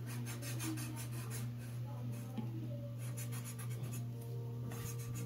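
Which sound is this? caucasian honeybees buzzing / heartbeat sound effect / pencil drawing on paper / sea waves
pencil drawing on paper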